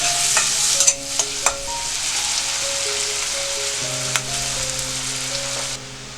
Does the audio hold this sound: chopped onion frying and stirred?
yes